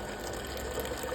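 A black COSTAR electric water dispenser pump pours 200 ml of water in a steady, close-up stream that runs evenly from start to finish with no talking.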